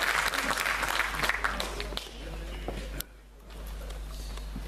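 Applause from a small audience at an opening ceremony, dense clapping at first that thins out, drops away briefly near the end, then resumes more faintly.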